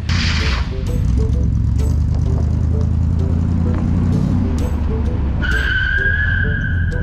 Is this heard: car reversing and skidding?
yes